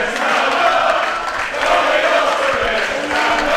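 A crowd at a live wrestling match roars and cheers for the tag team Kings of the North, a loud, continuous wash of many voices with no single voice standing out.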